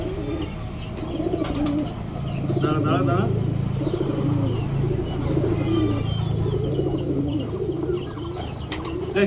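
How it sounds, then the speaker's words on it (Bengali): Domestic pigeons in a home loft coo repeatedly in low, rounded calls at close range, with scattered chirps and cage rustling throughout, while a person speaks briefly over them. "আমার কাছে তো পায়রাটা খুলে গেছে কি করে"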